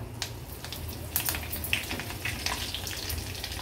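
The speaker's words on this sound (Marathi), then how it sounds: "कढीपत्त्याची पानं घालूया फोडणीला" Curry leaves sizzle in hot oil with mustard seeds and cumin in a tempering for dahi besan pithla. A soft continuous crackle runs under scattered small pops and spits.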